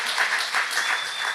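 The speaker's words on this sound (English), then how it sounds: "Give him a round of applause." An audience gives a guest a brief round of applause, a loud, steady patter of many hands clapping at close range without speech.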